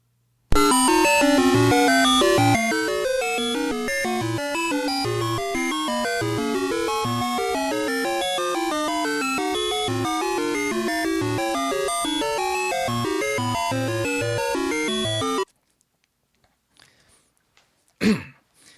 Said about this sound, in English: And it's this, the title screen to this game.